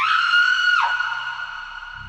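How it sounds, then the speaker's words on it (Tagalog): A woman's sustained, high scream rings out for about a second before dropping in pitch and trailing into a heavily echoed, processed tail, set at night in an old house in Vigan. "Bigla siyang sumigaw mula sa kama."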